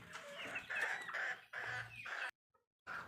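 A hen clucks in a poultry coop in a series of close, repeated calls with short pauses between them and a brief silence near the end.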